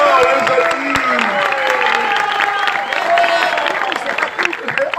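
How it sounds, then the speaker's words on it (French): A crowd at an evening event applauds and cheers, with sustained clapping under a busy backdrop of voices and shouts, loud and close, continuing throughout. "On l'applaudit bien fort,"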